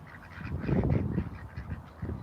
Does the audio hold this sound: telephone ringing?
no